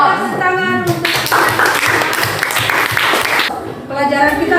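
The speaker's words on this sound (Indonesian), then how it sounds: "Tepuk tangan untuk" A classroom of students clapping hands together, a dense burst of clapping framed by a teacher's voice at the start and end, loud and close.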